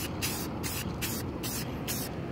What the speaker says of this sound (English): I've started to spray the top part here, and it actually doesn't look too bad.